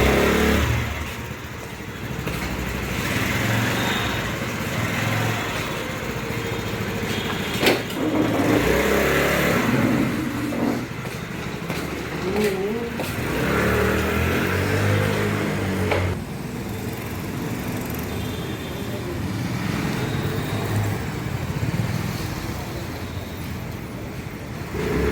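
A TVS Scooty Pep+ scooter with a jerking and pickup fault is ridden and accelerated, its small engine humming and rising in pitch over steady road and traffic noise, fairly close throughout without speech.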